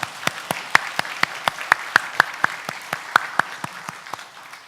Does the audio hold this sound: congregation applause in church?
yes